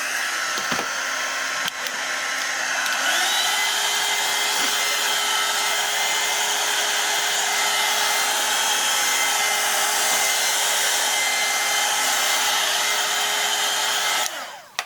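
A hair dryer blows steadily at close range over a collage journal page, a loud continuous whirring hiss that starts after a few clicks and stops abruptly at the end.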